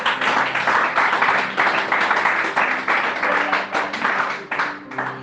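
A church congregation applauds in praise, a dense continuous wash of many hands clapping close by for several seconds, with a few voices mixed in.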